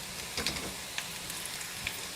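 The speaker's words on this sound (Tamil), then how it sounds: "இங்கே பாருங்கள், பூண்டு நல்லா வந்து செவக்க வதக்கியாச்சு." Garlic sautéing in hot oil in a home kitchen while cooked for a Tamil garlic-pepper kuzhambu, giving a soft steady crackle and sizzle with a few brief louder pops, no voices.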